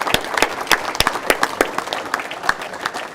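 Applause from a luncheon audience honouring a former football coach and recruiter, a steady patter of many hands with sharper individual claps standing out, fairly close and alone without speech.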